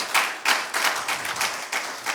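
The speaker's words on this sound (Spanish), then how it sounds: "Denles eso para el Señor, ese aplauso." A church congregation claps together during a service, in loud, rhythmic unison bursts roughly every third of a second, close and bright, with no voices over the clapping.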